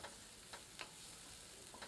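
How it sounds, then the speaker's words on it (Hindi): Finely chopped medium onion frying in two tablespoons of olive oil in a hot pan over medium heat, a soft steady sizzle with a few brief stirring scrapes, quiet and close. "इसे मध्यम आंच पर सुनहरे भूरे रंग का दिखने तक भूनते हैं।"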